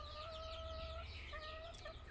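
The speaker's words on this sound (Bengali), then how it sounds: "এই যে মুরগি এখানে বসছিল, এই যে দেখেন ডিম পাড়তে আসছে" A hen clucks at her egg-laying spot in a sack, giving a few close, steady clucks in a quiet farmyard with no talking.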